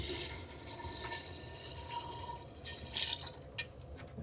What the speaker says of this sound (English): I'm going to throw some water in now.